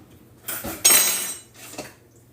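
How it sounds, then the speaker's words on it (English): A metal ladle clatters against pans in a home kitchen while making halupki, two or three close, bright clanks and scrapes with a ringing tail, no talking. "we are going to grab a ladle"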